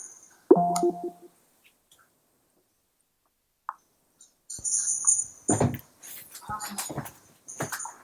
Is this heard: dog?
yes